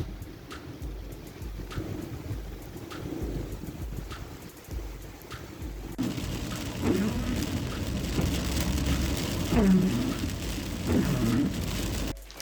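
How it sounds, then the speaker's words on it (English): Steady rain in Muscat, Oman, a broad wash of falling drops and spatters that grows denser and louder partway through, with faint bird calls and distant traffic in the background and no talking. "And once I was done, it started raining."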